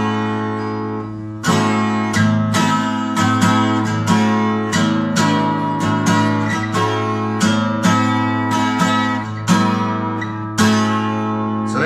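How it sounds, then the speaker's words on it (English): A major triad with its fifth raised a whole step is played repeatedly as struck chords, with a low sustained bass under them and bright attacks roughly every half second, and no speech. "That's a major triad with a fifth moved up a whole step"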